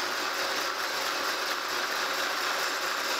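A milling machine steadily cuts a cast camelback straight edge, giving a continuous, even grinding and whirring with a faint rhythmic mechanical rattle, heard alone at moderate level.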